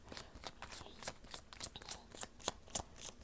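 Tarot cards riffle and snap in quick repeated bursts, a close, crisp papery shuffling with a steady rhythm of sharp flicks and no voices.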